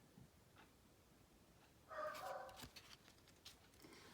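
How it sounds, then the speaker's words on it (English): A dog whimpers and gives a few short yelps at a distance, faint behind quiet room noise and brief rustling. "I apologize again for my dog."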